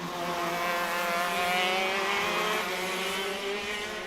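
Racing karts scream past at full speed in a Goldstar Series final, a loud sustained high-revving engine whine with shifting harmonic tones and no talk over it.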